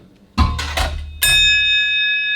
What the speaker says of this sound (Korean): 종소리가 들려요 안 들려요?